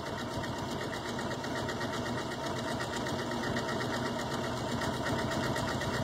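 A sewing machine runs steadily while stitching decorative eyelets into fabric with a single colour of thread, giving a continuous, even mechanical whir with a fast rhythmic pulse throughout and no talking.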